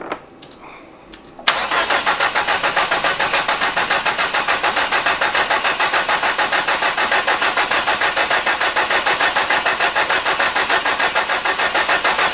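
A Datsun convertible fitted with a forklift starter cranks briefly after a quiet moment, catches, and settles into a loud, steady, rapidly pulsing run close to the listener.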